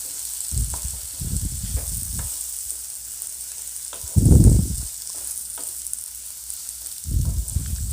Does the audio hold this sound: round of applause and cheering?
no